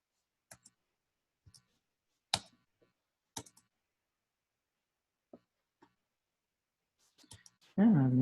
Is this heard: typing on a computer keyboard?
yes